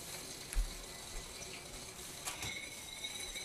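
Hot tap water running steadily from a faucet while preparing borax crystal solution, a soft continuous hiss with faint clinks and a few small knocks, close and fairly quiet, no talking.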